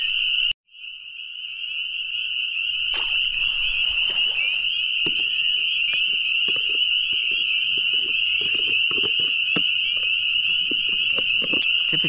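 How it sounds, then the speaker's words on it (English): A dense chorus of frogs croaks loudly and continuously, a shrill sustained trilling with scattered nearer calls and rustling underneath. "The frogs are literally so loud,"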